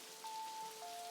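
Gentle rain patters in Necrobarista, a quiet continuous hiss under a thin held tone, with no one speaking.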